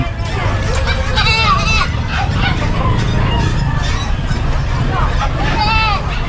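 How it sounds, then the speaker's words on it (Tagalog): Goats bleating at a busy open-air pet market in Bocaue, with wavering calls rising repeatedly over a constant crowd murmur and nearby talking, and other animals mixed in. "Ay, mga kambing."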